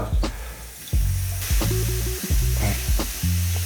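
Small pieces of beef frying in a pan as the first step of making ramen, a steady loud sizzle with bursts of stirring and spatter heard close up, with no voices.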